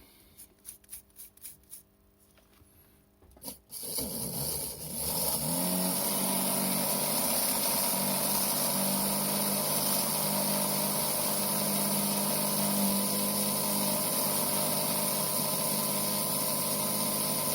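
An Autoworld 4 Gear slot car motor running in on a bench, starting after a few clicks and then holding a steady, high, whining drone that stays close and continuous with no voices.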